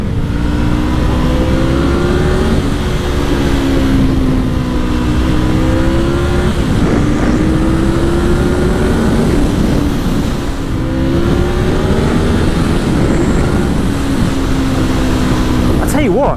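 A 100k-mile Honda VFR750 motorcycle engine at full throttle, a loud steady roar rising in pitch through repeated gear pulls, with rushing wind noise close on the rider.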